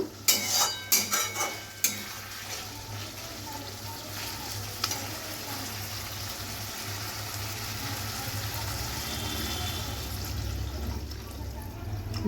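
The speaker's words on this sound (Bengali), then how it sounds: "এবার আমি কিন্তু এর মধ্যে জল দিয়ে দেবো" Water goes into a pan of softened spiced potatoes for a fish curry; a few utensil clatters open, then a loud, continuous sizzle and bubbling fills the rest.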